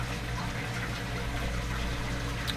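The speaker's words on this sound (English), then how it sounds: "you can hear the water going in the tank. I've got my garden hose in there filling up the waste tank" A garden hose fills a camper's waste water tank, giving a continuous muffled rushing and gurgling drone, steady and close with no talk over it.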